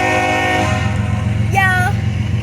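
A CSX Chessie System locomotive rumbles past close by, its loud deep engine drone continuing throughout while a multi-tone horn sounds one long blast partway through.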